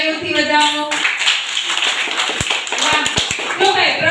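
A crowd claps for a team at a children's quiz competition, a dense run of applause with a few sharp, separate claps near the end, a voice heard at the start and edges.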